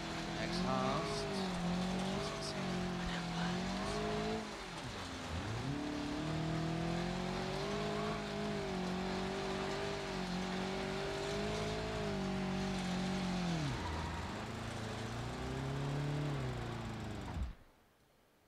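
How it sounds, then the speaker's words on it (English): A car engine revs hard and steadily with rising and falling pitch while overheating, dipping twice before cutting out abruptly near the end and leaving silence. "Engine broke down."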